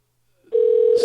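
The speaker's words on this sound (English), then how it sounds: "Skype tones." A Skype call ringing tone sounds as a single clean steady electronic tone that starts abruptly and holds, loud and close.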